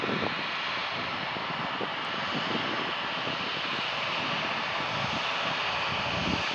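An airliner taking off from a runway at an airport, a loud, steady, broad roar of jet engines that holds strong and constant throughout.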